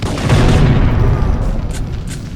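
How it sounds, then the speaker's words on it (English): Loud, deep rumbling explosions from the video game Syphon Filter, a heavy boom with scattered crackling that slowly fades away. "to the roar of the explosions"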